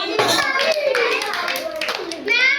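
Children in a classroom clap their hands in a burst of quick, close claps mixed with young voices.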